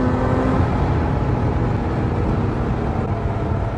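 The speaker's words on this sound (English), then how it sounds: "For a supercharged V6, it sounds very, very Formula One inspired sound" A Radford supercar's supercharged V6 gives a steady, loud engine drone with a throaty rumble throughout, cruising under constant throttle, with no voices.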